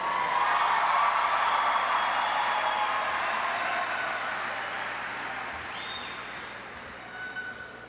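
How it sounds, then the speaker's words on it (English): Sustained applause from a large audience honoring graduating seniors at the Tucker High School graduation ceremony in 2019, a steady broad wash of clapping that slowly fades toward the end. "Please give our seniors a round of applause, please."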